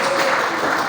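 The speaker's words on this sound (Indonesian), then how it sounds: "Tepuk tangan dulu untuk diri sendiri." A church congregation claps during a Sunday service, one second of loud, dense, continuous applause.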